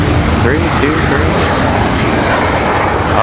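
Airplane at Washington Dulles International Airport, its engines producing a loud, continuous roar close by that holds steady throughout.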